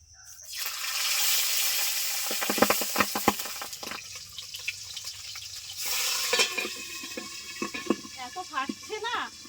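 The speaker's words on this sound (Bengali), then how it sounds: "তেল গরম হয়ে গেছে মাছ দুটো ভেজে নিচ্ছি" Fish sizzling in hot oil in a kadai, a loud steady frying hiss with crackles and spatters, brief louder bursts of spitting oil and occasional clinks of a utensil.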